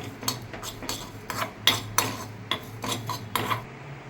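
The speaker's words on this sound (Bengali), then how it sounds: "আর এবার আমি একই সঙ্গে 1 চামচ মতো গোটা জিরে একটু ভেজে নিচ্ছি" Whole cumin seeds being dry-roasted in a pan, with a spoon scraping and tapping against the metal in quick irregular strokes, close and fairly clear with no voice.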